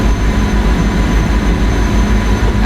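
A very fast train running at speed, a dense, loud, steady roar and rumble with a continuous rhythmic low clatter throughout.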